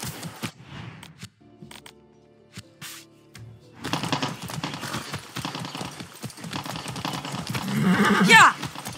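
Horse hooves clip-clopping in the video game Far Cry 6, a rhythmic patter of hoofbeats that grows busier and louder toward the end, mixed with other game sounds and brief voices.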